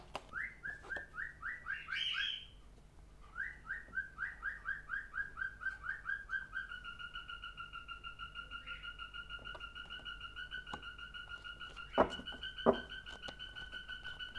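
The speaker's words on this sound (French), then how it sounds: "Cet oiseau fait des bruits" A bird repeats a rapid, whistled alarm-like call in a long run of pulsing phrases, near and fairly loud, with a few sharp clicks late on.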